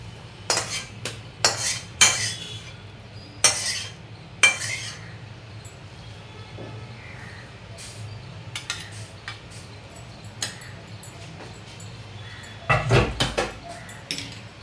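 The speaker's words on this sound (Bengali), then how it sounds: "এবার এই প্লেটের মধ্যেই ঢেলে নেব তরকারি।" Cooked thor (banana stem) curry with lentil fritters being scraped from a pan onto a plate, with a series of sharp metallic clinks and scrapes of a spoon against cookware between quiet pauses, close and with no talk.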